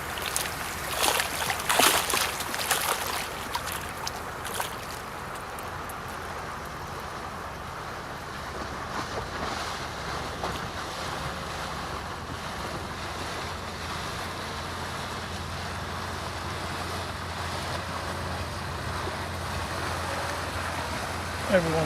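Motorboat engines and rushing water on the River Thurne in the Norfolk Broads, with wind buffeting the microphone; a loud pass early on, then a steady engine drone continuing throughout.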